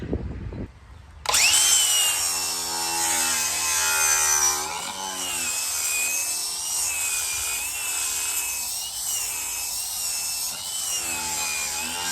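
A power sander works wood close up, starting abruptly after a short knock and then running steadily and loudly with a high whine and shifting pitch as it is pressed into the board.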